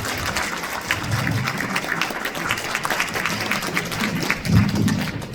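An audience breaks into applause at a Cheongju-Cheongwon lawmaker's legislative report meeting: dense, steady clapping from many hands that runs throughout, with a brief swell near the end.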